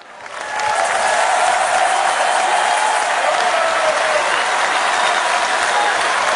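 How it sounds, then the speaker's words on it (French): A large audience at the WorldSkills 2023 opening ceremony in Lyon bursts into loud, dense applause for the experts, a steady roar of clapping that swells in within the first second and holds without a break. "il va falloir les applaudir à tout rond"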